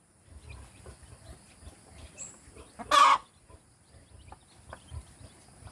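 Native chickens and young chicks cluck softly and steadily at close range, with a louder burst of fowl calling near the middle of the stretch.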